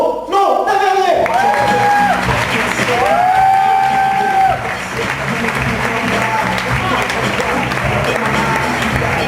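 Audience at a French one-man stand-up comedy show breaking into loud cheering, whoops and sustained applause, with a performer's voice calling out over the crowd.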